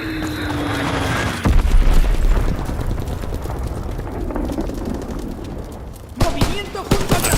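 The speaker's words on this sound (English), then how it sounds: "¡Han lanzado una bomba!" A bomb blast in Call of Duty: WWII lands amid constant battlefield noise. It brings a heavy low boom near the start, followed by sustained rumble and debris, then a second sharp impact near the end. Shouted voices run underneath.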